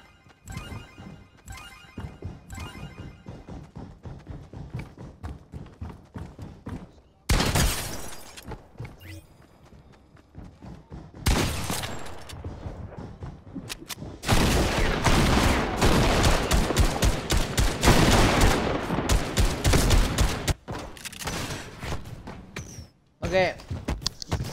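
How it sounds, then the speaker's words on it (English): Bursts of rapid video-game gunfire rattle in dense volleys during a one-on-one fight in a Fortnite-style match, loud and sustained in the middle stretch, with a player talking over parts of it. "I did not know I could shoot at people, so I just shot at someone and it did damage."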